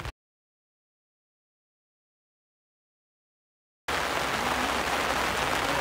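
Heavy rain bursts in suddenly after a long silence at a cricket match, a dense, steady roaring hiss that fills the last two seconds.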